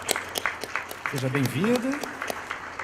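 Audience applause in a conference hall welcoming a panel guest, a sparse patter of claps that runs under a person speaking briefly.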